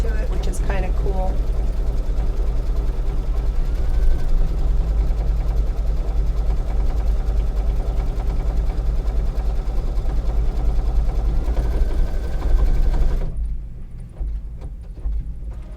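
A Kimberbell embroidery sewing machine stitches nearby with a steady low motor hum and a rapid mechanical needle chatter that runs continuously, a brief voice rising at the start, before the sound thins out near the end.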